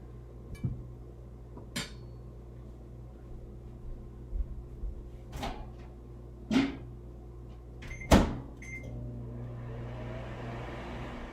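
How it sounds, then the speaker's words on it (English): A microwave oven heating butternut squash to soften it. A few clunks and clicks come first, then a steady, close hum rises and runs to the end, with no talking. "we're going to stick it in the microwave for about 2 minutes just to soften it up a little bit"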